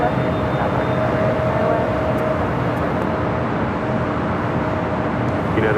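An airliner takes off from runway 24 left at LAX, a steady, broad engine roar that holds loud and even throughout, with faint voices underneath.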